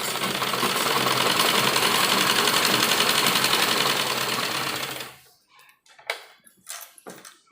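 A sewing machine stitching the seam of an embroidered sleeve with lining, a loud steady whirring run for about five seconds that stops, followed by a few scattered clicks and handling taps.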